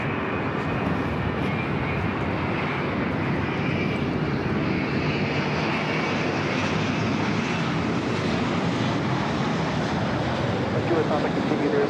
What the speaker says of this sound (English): The flight heading back to Osaka now rolling down 24 left.